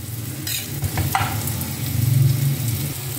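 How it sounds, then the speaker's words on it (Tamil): Bitter gourd sautés in a pan, a loud, continuous close sizzle with occasional scraping stirs and clinks of a spoon, with no talking. "பாருக்காய் வதங்கிட்டு இருக்கு நல்லா"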